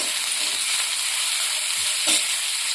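Four chopped medium onions frying in a pan give a soft, steady sizzle close by, with a brief louder scrape of stirring near the end.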